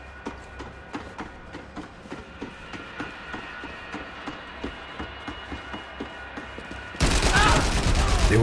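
Rapid gunfire from the video game Max Payne 3 in a team deathmatch, with a fast, regular volley of shots over a rumbling background, then a sudden loud burst of noise near the end.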